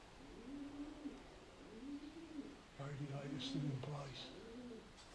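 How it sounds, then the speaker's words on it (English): Pigeons coo in a derelict, fire-damaged workhouse building, repeated soft rolling calls echoing in the empty rooms while someone speaks quietly. "Here come the pigeons."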